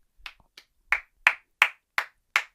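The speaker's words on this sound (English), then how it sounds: "See, I put my mic down so I could clap." A lone person claps for Randy's graduation, giving about six sharp, separate hand claps in a slow, uneven rhythm. The claps are close and fairly loud, with no talk over them.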